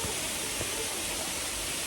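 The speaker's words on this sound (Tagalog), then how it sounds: "I know naririnig nyo na yung falls" Waterfall at a mountain resort, a steady broadband rush of falling water that stays constant and fairly soft throughout, with no voices.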